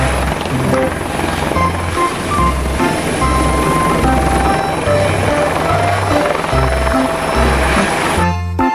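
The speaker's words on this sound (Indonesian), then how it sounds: "Yang ini ada helikopter." Toy helicopter rotor whirring steadily and loudly for the whole stretch, a looping synthetic engine drone with pulsing low beats, no talking.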